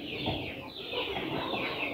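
Free-range chickens and small chicks hatched from layer eggs under a native hen cluck and peep together nearby, a continuous busy chatter of soft calls over two seconds.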